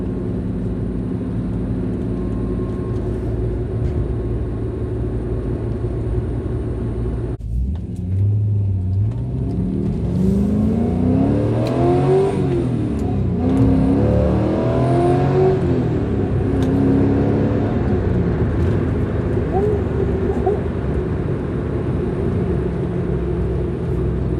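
A Porsche 944 fitted with an LS V8 and a hood scoop accelerates hard through second gear, its loud engine note rising in pitch with a climbing rev sweep over a steady road rumble, heard up close from inside the car.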